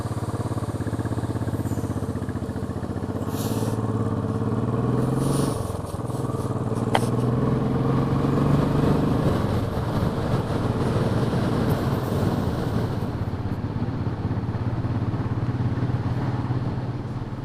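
A Bullet 500 motorcycle rides along a country road near Ingleton. Its engine drones loud and close in a steady, throbbing low tone, with wind rush on top and small shifts in pitch as it keeps moving.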